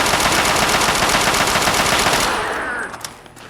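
Rapid automatic gunfire from the PC game Fallout 3 on very hard difficulty, a loud, sustained burst of shots for about two and a half seconds before it cuts off into quieter game sounds.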